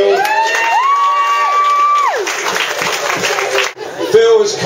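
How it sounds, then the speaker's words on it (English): Guests at a charity scanner appeal held at Thorpe Bay Yacht Club give a loud round of applause with cheering and a few whoops, and a voice rings out over the clapping. "A round of applause for Phil."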